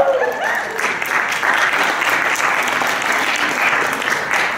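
Lecture hall audience applauding, a dense, loud, sustained wash of clapping from many hands, steady from start to finish with a faint voice early on.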